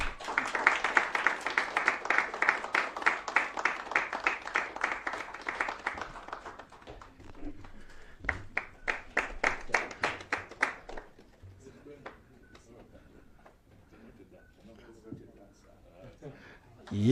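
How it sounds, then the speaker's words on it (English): Rhythmic clapping from an audience at a Kenyan book launch ribbon-cutting, strong for several seconds, briefly pausing, then a second burst before fading into scattered claps and quiet room noise. "And as the ribbon is cut, kindly makofi tafadhali."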